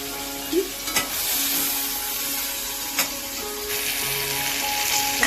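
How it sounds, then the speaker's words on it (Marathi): Vegetables fry in masala spices in a pan with a steady, close sizzle, punctuated by a few light knocks and scrapes from stirring, with no talking. "छानपैकी आपले हे फ्राय होत आहे."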